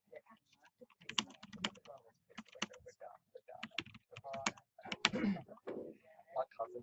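Typing a place name on a computer keyboard for a Google Earth mapping task, with scattered quiet key clicks mixed under a person speaking throughout.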